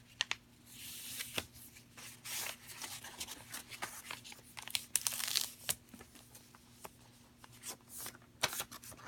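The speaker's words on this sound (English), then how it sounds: "So say that we're sending this notice. We fold it up." Sheets of a paper notice being folded for mailing give quiet, close crinkles, rustles and sharp creasing snaps in an irregular run, with no talking.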